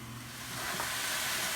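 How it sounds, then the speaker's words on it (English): Rice toasting in butter in a pan gives off a soft, steady sizzle, quiet and continuous, with no talking. "our rice has been toasting a little bit in this butter"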